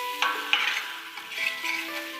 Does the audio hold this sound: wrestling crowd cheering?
no